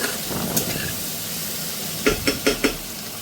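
Onions fry in a pan, giving a soft continuous sizzle and hiss, then four quick close scraping or tapping strokes near the end as the onions are stirred.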